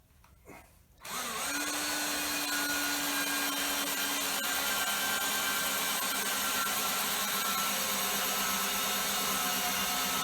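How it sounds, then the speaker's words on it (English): A power grinder spins up after a short quiet moment and then whines steadily and loudly, grinding down welds on patches in a wheel for an Allis Chalmers WD45 tractor, with no voices. "Now I just need to grind the welds down so everything is smooth."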